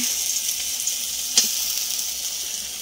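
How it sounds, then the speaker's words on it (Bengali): Oil spatters and sizzles in a cooking pan over a stove burner: a steady, close hiss with one sharper crackling pop partway through, and no voices. "তেল ছিটাচ্ছে"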